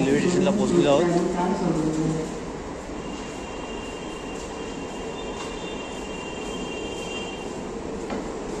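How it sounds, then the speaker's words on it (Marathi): Train at Kandivali railway station in Mumbai, rumbling steadily and loudly on the rails with a faint squeal. A voice talks over it during the first two seconds. "कांदिवली रेल्वे स्टेशनला पोहोचलो होतो आपण आता."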